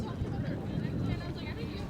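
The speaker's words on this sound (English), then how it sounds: "A little windy today." Wind buffets a microphone outdoors at a high-school baseball championship game, a steady low roaring rumble that fills the short moment with no other clear sound.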